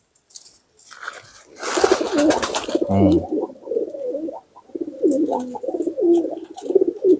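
Repeated soft, throaty coos of a high-flying pigeon in rhythmic phrases, fairly close, with a brief rustle of wing flaps partway through.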